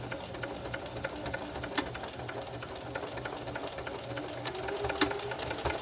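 Sewing machine running a straight stitch along a purse strap, a steady close mechanical whir with rapid needle ticking and a few brief pauses, with no talking.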